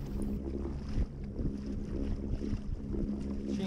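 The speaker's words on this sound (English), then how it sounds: "It is the engine that takes me." A Watersnake T24S electric motor side-mounted on a Native Manta Ray 12 Propel kayak, pushing it across open water: a steady low hum blended with water wash and gusts of wind noise, fairly quiet and continuous.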